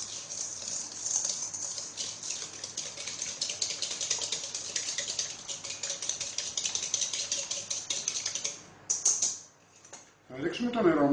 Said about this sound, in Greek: Και θα χτυπήσουμε με έναν αυγοδάτη. Για να μας λιώσει η ζάχαρη.